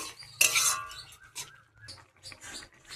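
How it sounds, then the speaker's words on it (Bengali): A utensil stirs ginger paste into Bengali fish curry (macher jhol) simmering in a pan, giving a few close, light clinks and scrapes with short gaps between them. "আদা বাটাটাও ভালোভাবে নেড়ে ছেড়ে নিই।"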